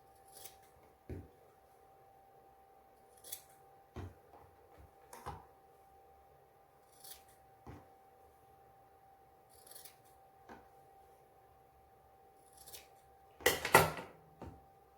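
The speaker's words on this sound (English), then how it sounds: "Then I grab my scissor. Cut these belt loops." Scissors snip through fabric belt loops on a pair of pants being sewn, a series of short, crisp cuts spaced a couple of seconds apart, ending in a louder, quicker burst of snipping.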